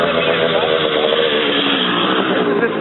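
500cc motocross motorcycles racing, their engines blaring in a loud, continuous, buzzing roar without a break while a voice talks over the noise.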